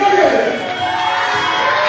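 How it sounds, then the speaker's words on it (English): A wrestling arena crowd roars and cheers steadily for a heavyweight champion's introduction, a broad, loud wash of voices sustained throughout. "Listen to this crowd."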